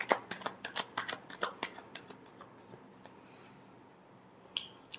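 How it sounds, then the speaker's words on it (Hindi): Tarot cards are shuffled by hand in a quick run of crisp riffling clicks and snaps that thin out into quiet, with one last soft flick near the end. "last shuffle"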